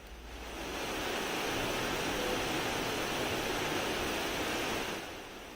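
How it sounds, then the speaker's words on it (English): Steady broadband white noise hiss fades in over the first half second, holds at an even, fairly loud level throughout, then tapers off near the end, with no voices. "Just listening to white noise."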